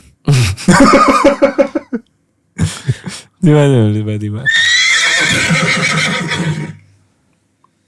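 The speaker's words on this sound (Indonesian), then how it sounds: "Ini hooknya tadi tiba-tiba suara kuda kan." A horse neighs as an attention-grabbing opener, its loud, long whinny following a few short spoken phrases and ringing out clearly before fading to silence.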